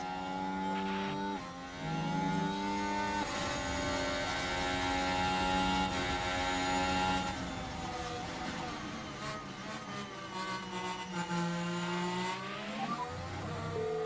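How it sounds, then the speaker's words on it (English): Formula 1 race car engines from the video game F1 Manager 24 whine and howl continuously, pitch sliding up and down with gear changes and overlapping cars; steady, fairly loud buzzing drone with no speech. "Probably need to tune down the engine sounds in this view a little bit"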